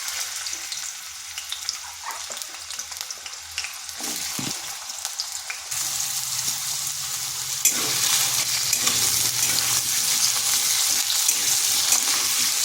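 Potatoes fry in hot oil in a wok, sizzling steadily with occasional stirring; the crackle grows fuller and louder about halfway through, with no talking.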